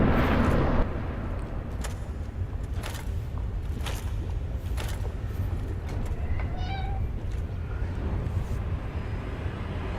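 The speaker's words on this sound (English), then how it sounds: "My cat wants to go to bed right now." A pet cat meows a few times, short clear cries near the microphone over a steady background hum, with no voices.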